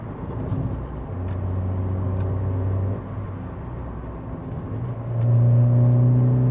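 A Ford Focus climbs a hill with its engine droning steadily from inside the car, then drops briefly before the revs rise into a louder, deeper hum as the throttle opens, with no talking.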